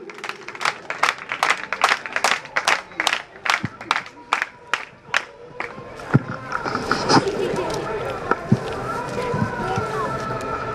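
Rhythmic clapping in a steady beat at a school farewell and convocation ceremony, fading after a few seconds into crowd murmur and talking.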